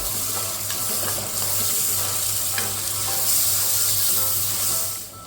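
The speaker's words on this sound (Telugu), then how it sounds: "దీన్ని కూడా బాగా ఫ్రై చేసుకోవాలి." A hot pan of frying ingredients for a fish curry gives a loud, continuous sizzle with faint scraping stirs, and no talk over it.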